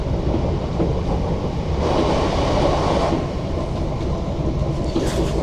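A train approaching Dumbreck station on the Glasgow Central to Paisley Canal line, a close steady rumble and clatter of wheels on track that swells briefly in the middle, with no talk.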